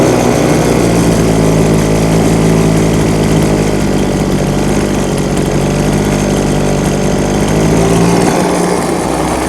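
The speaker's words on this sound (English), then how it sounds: "now that it's nice and warm, we're going to go ahead and turn the idle down a little bit." An old chainsaw, warmed up, idles loudly and steadily up close, its small two-stroke engine holding an even drone for the whole stretch with no talk over it.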